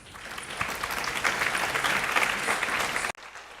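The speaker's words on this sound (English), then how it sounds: "please give yourselves a big round of applause" An audience at an education conference on sustainable development goals claps steadily for about three seconds in a dense, sustained burst that cuts off abruptly, leaving a quiet room.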